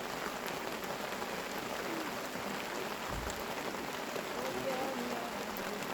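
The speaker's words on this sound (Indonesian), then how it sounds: "hujan lokal yang presisi di atas perkemahan kami" Rain falling on a campsite at the foot of Mount Salak, a steady hiss of drops on tents and ground throughout, with faint birdsong and a brief low thump partway through.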